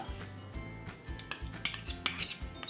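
Clinks and clatters of metal utensils against a steel mixer-grinder jar, a series of sharp close taps and scrapes as ingredients are tipped in.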